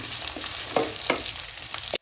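Ginger garlic paste gets mixed into a fish kofta mixture, giving a few soft, wet stirring scrapes over a faint background hiss, then ending abruptly in silence.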